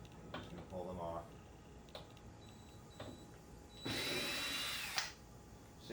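A power drill backing out number 2 square-bit screws from a door threshold on a rebuilt teardrop trailer door, with short whirring bursts and one longer loud run near the end, amid light tapping and handling.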